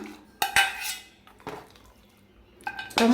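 Ghee-fried cashews and raisins tipped into a pot of sweet sakkarai pongal, giving a few separate clinks and scrapes of metal cookware with quiet gaps in between.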